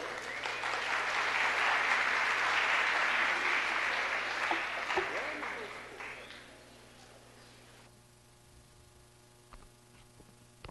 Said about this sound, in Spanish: les pido un aplauso para el profesor Rey